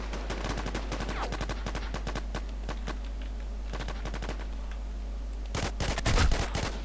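Rapid automatic gunfire in the War Inc Battle Zone video game, with dense bursts of sharp shots at the start and a louder burst near the end. A steady low hum runs underneath.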